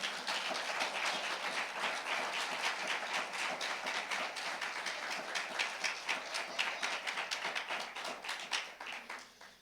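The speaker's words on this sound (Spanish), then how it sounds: "¿Cuántos le dan un fuerte aplauso al Señor?" A church congregation at a Bible study gives the Lord a strong round of applause, with dense, steady clapping from many hands filling the room for the whole stretch and fading slightly at the end.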